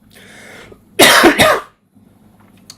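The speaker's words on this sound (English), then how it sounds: "my cough is still here." A person gives a brief, harsh cough and clears the throat, close and loud, between quieter stretches of room sound.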